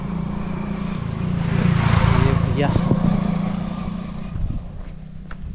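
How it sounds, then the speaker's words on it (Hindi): Motorbikes on a mountain trek trail approach and pass close by, their engine noise rising to a peak and fading away, while someone speaks briefly over them. "मेरे को पीछे से गाड़ी की आवाज़ आ रही है, तो शायद बाइक वाले आ रहे हैं।"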